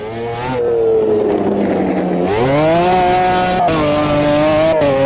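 Race car engine in Automobilista 2 revving hard and dropping through downshifts, the pitch falling then climbing again with each gear change and a brief lift near the end, loud and sustained with no talk over it.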